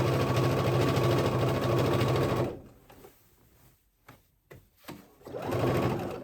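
A sewing machine stitches up past the slit opening of a maxi dress, making a steady, loud, close motor hum for a couple of seconds. A few light handling clicks follow before the machine runs again.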